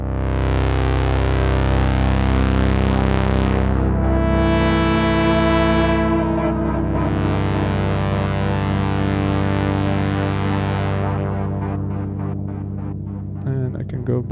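Sustained Behringer DeepMind 12 synthesizer chords drift and shift over a low drone, washed in long echoing reverb that lingers and fades toward the end.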